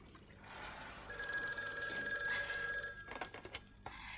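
A telephone bell rings in a loud, sustained burst lasting about two seconds, then breaks into a few shorter, choppy rings as it trails off, alone without talk.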